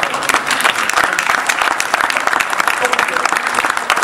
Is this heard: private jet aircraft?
no